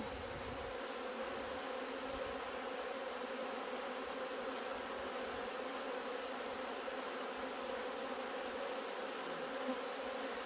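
A dense, steady hum of many honeybees buzzing together, constant and even throughout with no pauses.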